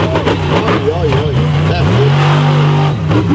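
Monster truck engines rev loudly during a race in Trollhättan, pitch swooping up and down through repeated throttle bursts before settling into a sustained roar, with an excited commentator talking over them.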